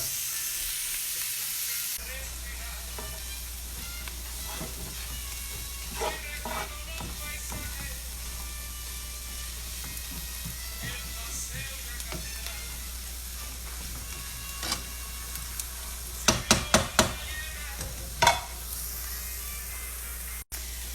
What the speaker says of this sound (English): We're just going to cook the onion until it's soft.